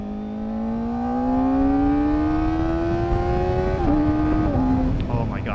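A Kawasaki ZX-4RR motorcycle with a Yoshimura AT-2 exhaust revs up close and loud, its engine note climbing steadily toward a high-rpm howl before dipping briefly with gear shifts near the end.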